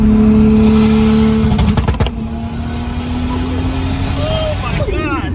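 A Toyota 2JZ-GTE turbo engine in a Mk3 Supra on a dyno revs hard and loud with a sustained droning pitch. After a brief drop it settles into a lower steady roar, and voices come in near the end.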